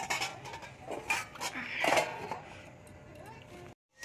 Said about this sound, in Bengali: ভেজে রাখা ডিম আলু দিয়ে আবার চাপা দিয়ে দেবো